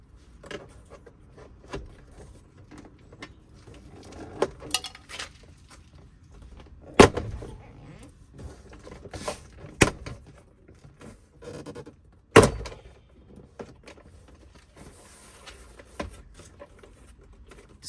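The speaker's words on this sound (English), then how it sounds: "start unhooking the pins on the door panel" Plastic trim pins popping loose as a door panel is pried off a BMW F30, with sharp snaps and clicks spread over quiet handling noise, close and intermittent, with no voices.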